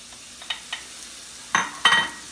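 Prepped vegetables, onions among them, dropped into a hot pan for chicken pot pie, giving a couple of soft knocks and then two louder bursts of sizzling and stirring, close by with no voices.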